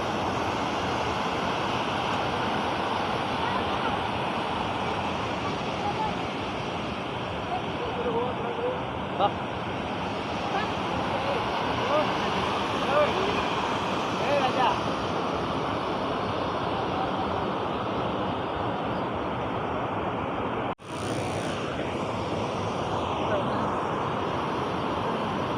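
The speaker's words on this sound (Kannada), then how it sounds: "ಇದು ಗೊಡ್ಚಿಮಲ್ಕಿ ಜಲಪಾತ. ಇದು ಮೆಟ್ಟಲುಗಳ ಥರ ಇರೋದಂದ್ರೆ ಈ ಥರ ರಭಸವಾಗಿ ಹರಿಯುತ್ತೆ." Godachinmalki waterfall on the Hiranyakeshi river near Gokak, Belagavi, pours forcefully down step-like rock ledges as a dense, continuous roar of rushing water, steady and close throughout, with a brief dip near the end.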